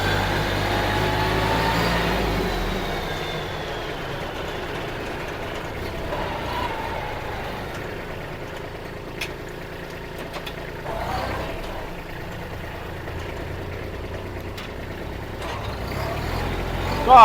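A used Kubota B2140 tractor runs in gear with a steady, moderate engine rumble. It is louder at first, then settles into an even hum with a few faint clicks and knocks.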